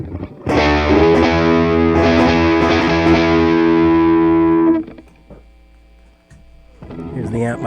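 An electric guitar played through a Chase Bliss Brothers AM pedal on its lead channel gives a loud, sustained, distorted chord that rings for about four seconds and then cuts off, leaving a low hum before faint playing resumes.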